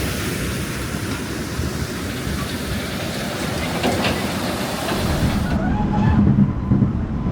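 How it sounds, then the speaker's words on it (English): A small children's caterpillar roller coaster runs nearby at an amusement park, a continuous rumbling roll of wheels on track with faint clatter, building slightly louder toward the end, outdoor background noise, no talk. "we'll go and give Odin's little caterpillar coaster a ride now just over there"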